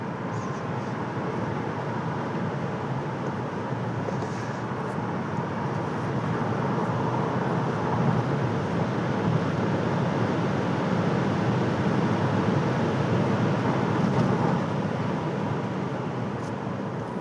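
A Chevrolet Bolt EV electric car accelerating hard on an empty road, heard from inside as a steady, loud broadband rush of road and wind noise that swells slightly mid-run, with no engine note.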